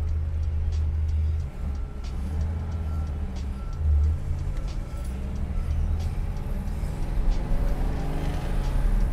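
A 1957 Ford Custom 300 with a 428ci engine cruises at around 3,000 RPM, its low, steady drone and road rumble continuous and fairly loud, with a couple of brief bumps in the low end.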